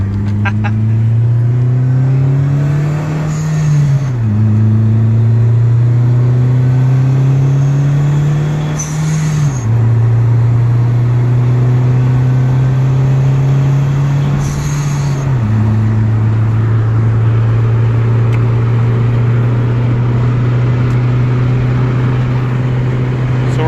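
A boosted Honda Civic Em1 engine pulls hard through three gears on the freeway, each rising drone dropping at a shift before climbing again, loud and close inside the cabin with steady road noise.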